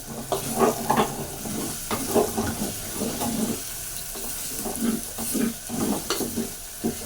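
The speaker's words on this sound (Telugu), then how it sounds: "అల్లం వెల్లుల్లి పేస్ట్ అయితే బాగా వేయింది" Ginger garlic paste sizzling and frying in a pan while being stirred, a steady hiss with rhythmic scraping stir strokes recurring through the whole stretch, close and clear with no voices.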